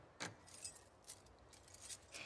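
Keys jingle in brief metallic bursts inside The Last of Us Part II, a few quick clinks and rattles spread across a couple of seconds, faint against quiet ambient background with no speech.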